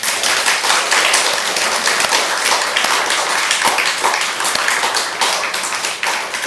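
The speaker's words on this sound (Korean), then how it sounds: "박수 한번 칠까요?" A congregation applauds during a church sermon, giving a loud, close, continuous burst of many hands clapping that stays strong throughout, with no speech over it.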